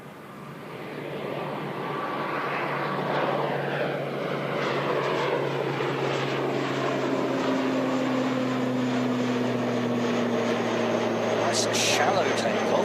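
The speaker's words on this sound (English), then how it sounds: "We've got an ATR just heading out as well." ATR turboprop airliner taking off from Christchurch Airport, a continuous loud propeller and engine drone heard from a distance with slowly shifting tones, steady throughout with a brief rise near the end.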